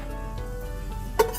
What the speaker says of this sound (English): and keep stirring on medium heat